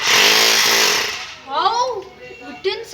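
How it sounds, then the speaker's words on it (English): A Bosch GBH 220 hammer drill running in hammering mode gives a loud, dense buzzing rattle for about a second, then cuts off, leaving talk and a few brief bursts. "So now it is hammering mode."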